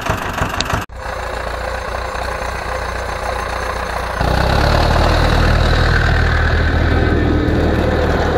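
An Ursus C 360 or C 325 tractor engine runs steadily while spreading lime on a field, a loud continuous diesel drone that grows heavier and louder partway through after a brief cutout near the start.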